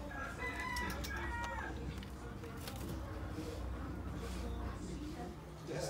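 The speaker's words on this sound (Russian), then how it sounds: "Ну, петушок у нас." Rooster crowing at a large garden centre, heard faintly and at a distance beneath people talking nearby and general background bustle.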